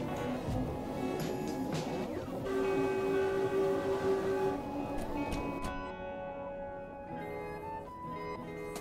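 A 1938 Stock train on the Bakerloo line in Train Sim World 2, accelerating with a rising motor whine and layered humming tones over a rumbling run that fades to lighter running noise near the end.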